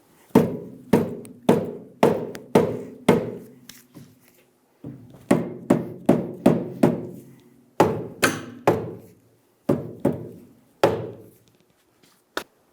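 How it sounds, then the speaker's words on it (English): Repeated sharp soft-face hammer taps on the rear steering knuckle of a 2000-2007 Ford Focus in bursts of several quick blows with pauses between, close and clear. "Use a soft face hammer to tap the knuckle down to meet the control arm."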